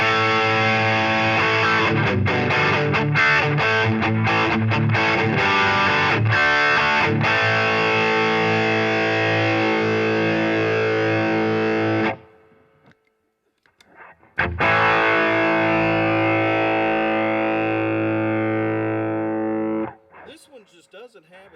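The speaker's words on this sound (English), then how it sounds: "let's crank this one up to the same amount of distortion" An electric guitar plays through Boss distortion pedals in a side-by-side comparison, a dense sustained distorted tone, then a short pause, then another distorted passage that fades out near the end.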